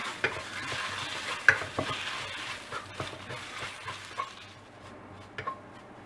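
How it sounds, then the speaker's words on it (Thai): Minced shrimp stir-fried in rich coconut cream for a sticky-rice filling, with a soft bubbling sizzle and repeated scraping and tapping strokes of a spatula against the pan, steady and close with no talk. "พอหอมดีแล้วก็ตามด้วยกุ้งสับค่ะ ผัดให้กุ้งสุกเลยนะคะ"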